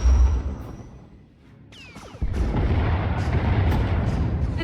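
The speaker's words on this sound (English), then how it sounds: "Enemy is firing. Turbo lasers, missiles, and what looks like transport pods." Starship turbolasers and missiles fire in a space battle: a deep rumbling boom fades, then a sharp blast erupts into sustained heavy rolling fire with descending whistling streaks, loud and close.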